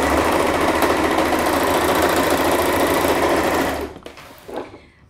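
A sewing machine stitching a pajama collar seam runs at a loud, steady, rapid mechanical whir for about four seconds, then stops, followed by a brief handling rustle.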